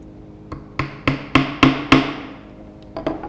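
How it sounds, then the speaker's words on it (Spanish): A hammer drives a nail into a wooden block with six sharp, evenly spaced blows that grow louder, then two lighter taps after a pause, close and clear with no talking. "Comencemos clavando el primer clavo de la manera convencional"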